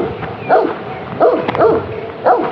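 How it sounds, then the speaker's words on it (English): A friendly dog on a hiking trail in Chão da Ribeira, Madeira, barks in four short, close, moderately loud yaps spaced evenly apart. "We start with a friendly dog."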